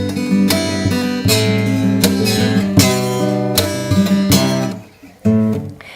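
A very cheap acoustic guitar, about Rp 100,000, played fingerstyle with percussive strums and thumps, warm bass notes ringing under bright plucked chords, close and fairly loud with no talking.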